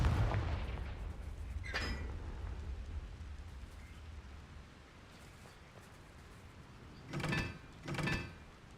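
Confringo spell blasts in Hogwarts Legacy: a sharp burst early on, then two heavier booming explosions near the end over a low, rumbling game ambience, with no talking.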